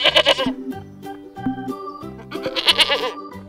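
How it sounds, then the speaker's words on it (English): A goat bleats several times in quick, wavering cries, loud and near, with brief gaps between calls and no talking. "Goat."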